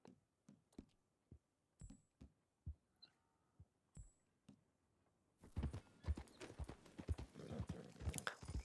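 Horse hooves clip-clopping in Red Dead Redemption 2, faint scattered steps at first, then a quicker, louder run of hoofbeats toward the end.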